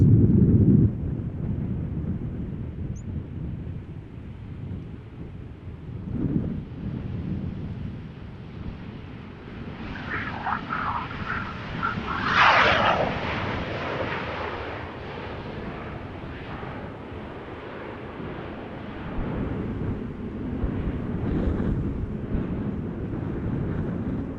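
A Boeing 737-800 airliner arriving at Amsterdam Schiphol on a windy day after a storm, its low engine roar swelling and fading at a distance under heavy wind buffeting.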